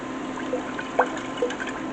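Worcestershire sauce trickles into a measuring spoon in a home kitchen, with a few faint glugs and drips over a steady background hum and no voices.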